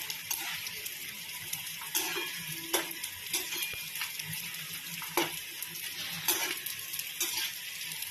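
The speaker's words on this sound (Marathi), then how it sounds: "आता आपण याच्यामध्ये डिंक टाकून तळून घेऊया।" Edible gum (dink) fries in hot fat in a pan for wheat-flour jaggery laddoos, a soft steady sizzle broken by occasional stirring clinks and scrapes, close but fairly quiet, with no talk.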